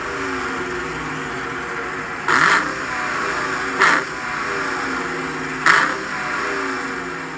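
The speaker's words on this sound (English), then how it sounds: "Down below is the dual split exhaust, which sounds amazing" A Dodge Challenger R/T Scat Pack Widebody with dual split exhaust rumbles at a steady idle. Three short, sharp throttle blips rise above the drone a second or two apart.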